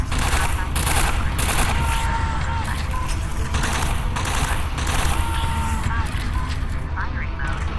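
Assault rifle fire in the MECHA VR game on Quest 3, rapid sustained bursts of loud gunfire layered over mechanical whirring, nearly continuous with short gaps, while a voice talks over it.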